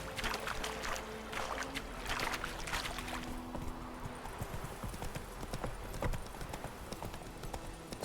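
Geralt's horse Roach gallops in The Witcher 3, hooves pounding in a fast steady clip-clop that runs throughout at moderate loudness over game ambience and music.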